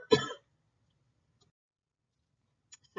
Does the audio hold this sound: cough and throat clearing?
yes